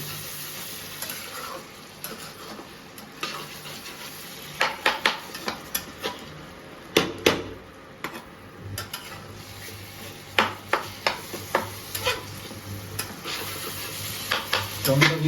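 Tomato, onion and green chilli mixture being stirred in a frying pan, with a spoon scraping and tapping the pan in irregular bursts over a low steady sizzle, close by.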